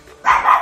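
A single short, loud bark from a dog indoors, close by and heard alone.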